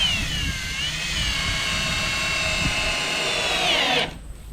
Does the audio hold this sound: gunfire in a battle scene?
no